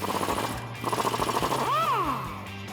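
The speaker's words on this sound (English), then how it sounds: "I'm gonna use a 17mm socket and wrench in order to do that." A 17mm socket and wrench work loose the shock bolt on a 2007-2021 Toyota Tundra, giving two bursts of rapid mechanical rattling up close, followed by a brief squealing chirp.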